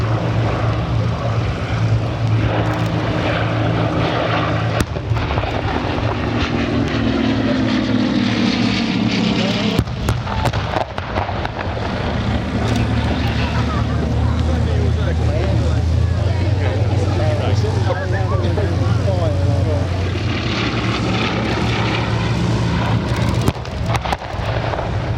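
Bristol Blenheim bomber flying past at an air festival: a continuous droning propeller engine roar with shifting pitch fills the whole stretch, with a commentator talking over it.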